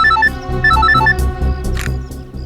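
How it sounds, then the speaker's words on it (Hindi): A phone ringtone plays in a tense crime-drama scene, a repeating electronic melody of short high notes over a loud, full background music score. "दया का फोन आ गया।"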